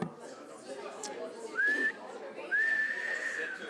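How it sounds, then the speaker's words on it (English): A person whistles two short rising-then-level notes, faint and close, against quiet room murmur at a council meeting. "That's my whistling."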